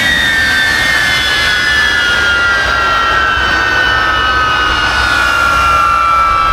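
A jet engine fitted into a Pontiac G8 runs at a loud, constant roar with a piercing turbine whine that drifts slowly downward, steady and close throughout with no talking.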